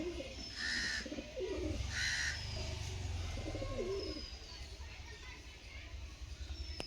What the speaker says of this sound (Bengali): দশ পনেরো পায়রা, সব ছানা টাইপের।